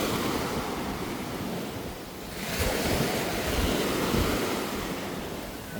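Ocean surf rolls onto a beach on Boracay at high tide during the monsoon season, a loud continuous wash that swells as a wave breaks midway, mixed with gusty wind noise on the microphone and no voices.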